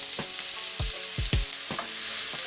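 Onions hitting hot oil with roasted spices for Kashmiri rajma, a bright constant sizzle broken by several close scraping stirs and clatters.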